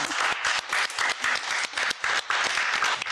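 Studio audience applause on a Doordarshan TV talk show, a full, even roar of many hands clapping with brief dips in rhythm, heard alone and moderately loud.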